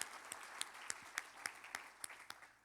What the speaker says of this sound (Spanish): Dele ese aplauso al Señor, glorifique su nombre.